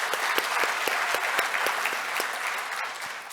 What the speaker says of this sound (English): So yes, round of applause.